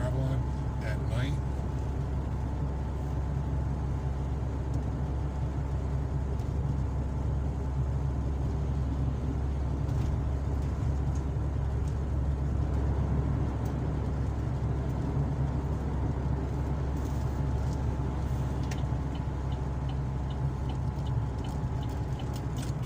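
A car drives along a road in Surco, giving a steady, close engine drone and road roar that holds unbroken for the whole stretch.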